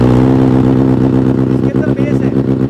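A Benelli 600i motorcycle engine revs loud and close, a deep, rich exhaust note whose pitch wavers as the throttle is blipped.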